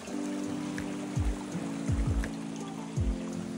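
A mountain stream near a series of waterfalls on Mt. Maynoba trickles and burbles close by, with several distinct gurgling drops and splashes standing out over a steady wash of flowing water.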